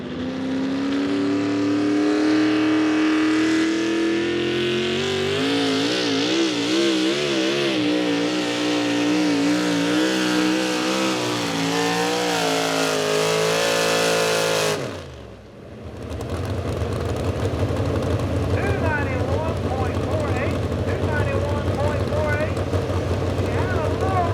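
A pulling truck at a tractor and truck pull event roars and revs hard for about fifteen seconds, engine pitch climbing and wavering, then drops briefly before the heavy rumble resumes; an announcer talks over it throughout.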